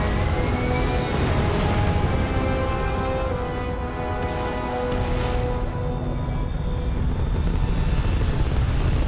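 A spaceship lifting off in the video game Starfield, heard as a loud, continuous engine roar with a broad rumbling hiss that swells briefly midway and holds steady throughout.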